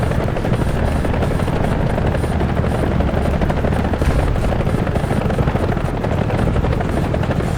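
An Apache attack helicopter in a military video game flies with a loud, steady rotor thump and engine roar that stays constant and unbroken throughout.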